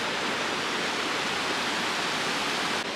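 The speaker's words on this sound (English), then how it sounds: "We have a nice, beautiful creek coming off the mountain, snow melt." Snowmelt creek running off a mountain in Glacier National Park, a steady, dense rush of flowing water that holds close and even for the whole stretch with no voices.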